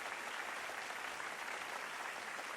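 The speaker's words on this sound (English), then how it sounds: "Why are we clapping?" Steady clapping from a scene in a Jujutsu Kaisen anime episode, an even, continuous patter of many hands at moderate level, with no voices over it.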